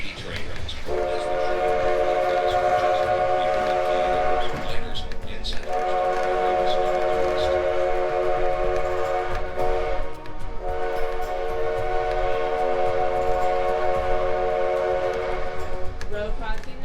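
The 1880 Train, a heritage railway in the Black Hills, sounds its horn in three long, loud, sustained blasts over a constant rolling rumble of the cars.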